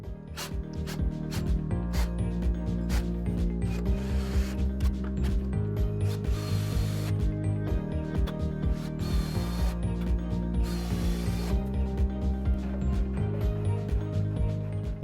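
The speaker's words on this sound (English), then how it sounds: "the bottom parts of the blocks that don't carry any load get fixed" Wood screws driven to fix the non-load-bearing lower parts of wooden blocks on a workbench wheel assembly, a close mechanical ratcheting whir in repeated bursts with sharp clicks, steady and without voices.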